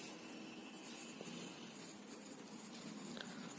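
A pen scratches out an answer beneath a figure on paper in a maths exercise, making a faint continuous scratching and rubbing close by against a quiet room hiss.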